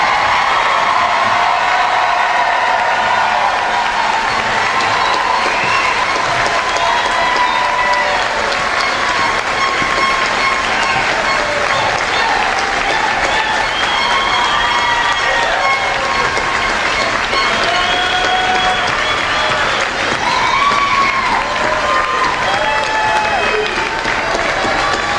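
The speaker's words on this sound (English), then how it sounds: "Graduates, please turn, face the audience, and receive their applause." An audience at a Coastal Bend College commencement applauds and cheers the graduates, a loud, continuous wash of clapping with scattered shouts that holds steady for the whole stretch.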